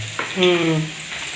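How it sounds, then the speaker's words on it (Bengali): Beetroot fries in a pan at home with a short burst of close sizzling and stirring, while a brief voiced tone rises over it. "বিট ভাজা হচ্ছে।"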